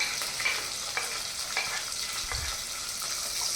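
Dried red chillies, green chillies and onion fry in a pan for a thotakura (amaranth greens) dish, giving a steady close sizzle broken by light stirring scrapes, with no voices.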